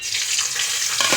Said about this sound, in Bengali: এবারে দেব দুটো তেজপাতা আর এই গরম মশলাগুলো,